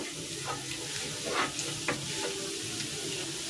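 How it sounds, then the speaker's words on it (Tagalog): Garlic sautéing in a pot for a cabbage noodle soup gives a steady, soft sizzle, with a few sharper scrapes and clinks of a spoon stirring the pan, close by and with no talk. "nagisa na ako ng bawang"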